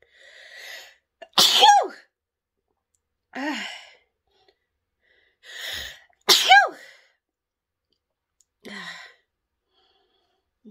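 A person sneezes repeatedly, loud and close, a forceful sneeze on a rising breath coming every couple of seconds, with softer sighing inhales in between.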